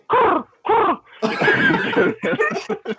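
A person mimics pigeon cooing with the voice in two short bursts, followed by a longer run of warbling, throaty vocal noises with chatter and laughter-like sounds mixed in, close and loud.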